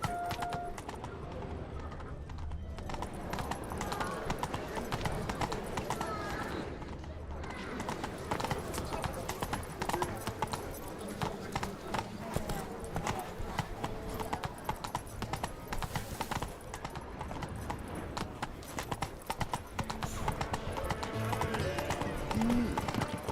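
Roach, Geralt's horse in The Witcher 3, gallops with steady, close hoof clip-clops and an occasional whinny, while voices talk over the hoofbeats throughout.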